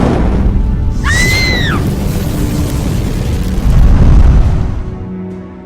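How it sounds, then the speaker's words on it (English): Fire beam spell cast in the Roblox game Vampire Origins: a whooshing, rumbling blast with a brief rising and falling whistle tone, loud and continuous over several seconds, swelling near the end. "Next is fire beam. This sets the target on fire and freezes them."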